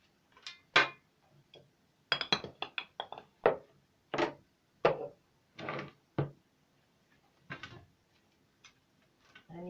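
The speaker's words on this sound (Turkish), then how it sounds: "bıçak yardımıyla ben de ekmeklerimi doğruyorum" A knife cuts through stale bread in a kitchen, giving a string of dry, crisp crunches and cracks in irregular bursts separated by short silences, close and fairly quiet, with no one talking.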